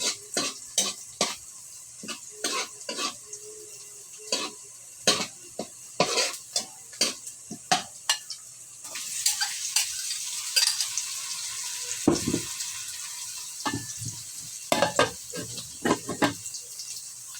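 Hotdogs frying in a pan with onion and garlic, a steady sizzle broken by frequent sharp scrapes and clinks of a utensil stirring against the pan, close and fairly loud, with no talking.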